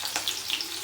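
Garlic and chili pieces sizzle and crackle in hot oil in a pan, a steady close frying hiss with small pops and no talk.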